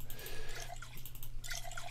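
Water trickles and drips into a container as it is collected in a survival video game, a soft continuous liquid patter over a steady low hum.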